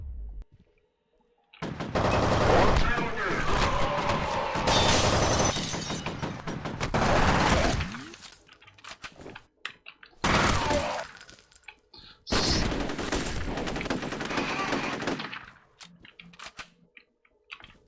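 Gunfire in a shootout in the video game F.E.A.R., with loud bursts of rapid shots in several long volleys separated by short quiet gaps.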